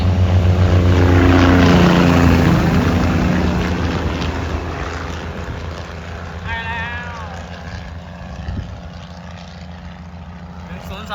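A heavy diesel locomotive, number 1024, rumbles past close by on a railway in Thailand, a deep engine drone with shifting tones that slowly fades as it moves away, with a voice speaking partway through.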